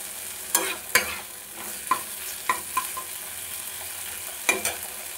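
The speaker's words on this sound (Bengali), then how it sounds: "আলুটা দিয়ে আমি খুব ভালোভাবে কষিয়ে নিয়েছি।" Potatoes being sautéed in a pan while making a raw banana kofta curry: a quiet steady sizzle with occasional crisp scrapes and clinks of a spatula stirring against metal, close up and without speech.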